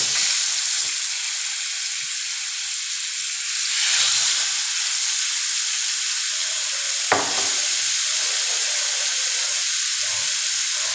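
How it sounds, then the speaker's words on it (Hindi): Marinated chicken frying in a little oil over low heat produces a loud, continuous hiss and sizzle close by, with a single sharp click partway through and no speech. "अब इसमें ऑयल डालेंगे 2 चम्मच, और ये जो गोश्त मैंने मैरिनेट करके रखा था इसको इसमें आराम से रख देंगे हल्की आंच पे"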